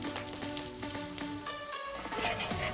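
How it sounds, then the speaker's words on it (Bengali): Butter melts and sizzles in a frying pan before mushrooms go in, making a steady, close crackle and hiss beneath light background music. "বাটারটা আমার গলে গেছে"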